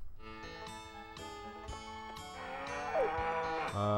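Several drawn-out cow moos from the video game Harvest Moon 64 sound one after another, with harmonic tones layered over a steady background drone; no talking.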